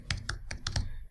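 Computer keyboard typing, five quick key taps in about a second, close and quiet.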